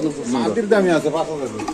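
Pigeons at a market selling giribaz and racer birds coo close by in soft, warbling bursts, mixed with people talking nearby.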